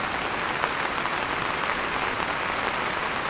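Steady rain pattering on a rooftop, a dense even hiss of drops at close range with no pauses, heard alone.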